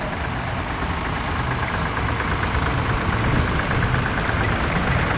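A vintage County four-wheel drive tractor runs at a vintage show, its engine giving a steady, loud, rumbling drone that holds evenly throughout with no talk over it.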